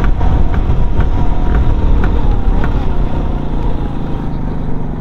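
A modified Rajdoot 175 cc motorcycle engine runs loud and close, a dense, steady rumble that holds with little change throughout.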